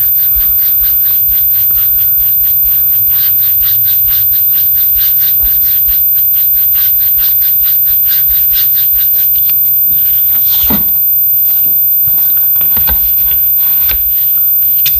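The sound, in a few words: paintbrush scrubbing paint onto wooden bunny banner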